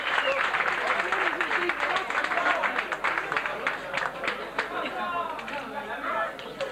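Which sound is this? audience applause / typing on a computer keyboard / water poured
audience applause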